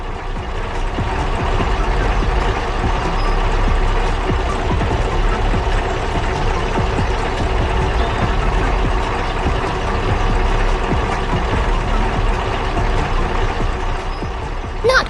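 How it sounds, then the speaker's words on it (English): A bright red tractor's engine labors steadily as it maneuvers around a bend toward the fields, a continuous loud low-pitched drone that holds level from start to finish. "That tractor is working hard, maneuvering steadily around the bend to reach the fields."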